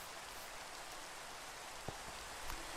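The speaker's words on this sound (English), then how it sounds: "And now it's raining again." Rain falls in a video game, a quiet, steady hiss with a couple of faint drop-like ticks, and no talking.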